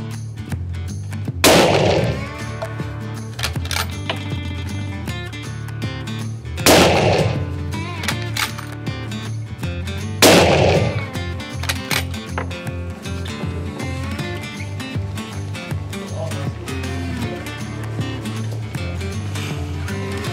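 Three sharp, loud rifle gunshots with an Aimpoint sight, fired in hunting practice, spaced several seconds apart, ring out over a steady background drone.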